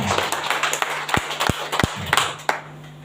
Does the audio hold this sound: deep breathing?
no